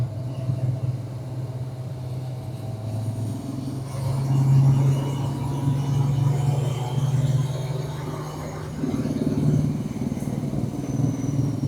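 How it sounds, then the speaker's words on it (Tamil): Two Kawasaki Z900 motorcycles idling and rolling together on a rough road, a steady low engine rumble that swells louder midway, with faint rattles over continuous road noise. "ரெண்டு வண்டியும் சவுண்டு ஒன்றா கேட்டு குர்ன்னு கேட்குது."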